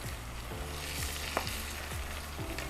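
Pork liver strips sizzling in a frying pan with butter, a steady close crackle and hiss running throughout with a few brief pops and low stirring clatters.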